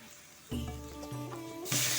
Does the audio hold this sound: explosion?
no